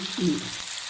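Peas and carrots softening in oil in a pan over a medium flame, giving a brief steady sizzle and faint stirring rustle up close.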